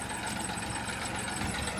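A tractor engine idles steadily nearby on a village road, a continuous low rumbling drone with faint knocking vibration and no pauses or talk.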